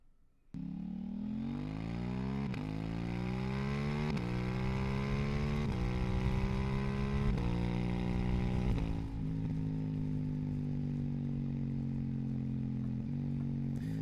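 KTM 890 Duke R motorcycle accelerating hard with a quickshifter, the engine note climbing in pitch through several rapid upshifts with brief dips between gears, then settling into a steady cruising drone, loud and close.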